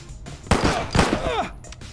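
Gunfire in the police tactical video game Police Stories: a short burst of two or three close shots with ringing tails, under a busy game mix.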